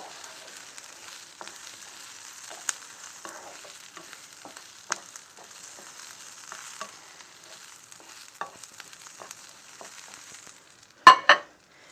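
Lentils sizzling in a pan of cooked onions and garlic, a faint steady frying hiss with occasional small pops, ending in a couple of louder clinks of a utensil against the pan.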